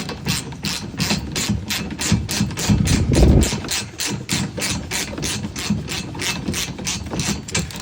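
A Milwaukee ratchet wrench turns a 17 mm bolt on a Kawasaki KRX1000, making a steady, fast, close pawl clicking that runs throughout, with a brief heavier thump partway through.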